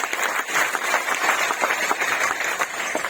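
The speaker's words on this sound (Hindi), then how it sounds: "एक बार जोरदार ताली आप सबके लिए" Audience applause fills a large morning business gathering, with dense, steady clapping from many hands continuing throughout at a fairly loud level, without any spoken voices.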